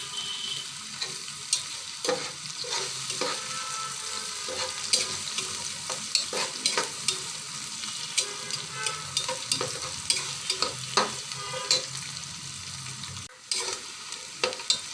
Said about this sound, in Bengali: এই যে পেঁয়াজটা আমার ভাজা হয়ে গেছে